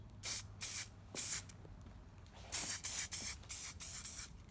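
Short bursts of spray paint hissing onto a rusted tractor tooth, about eight quick sprays in a loose rhythm, close and fairly loud with brief pauses between.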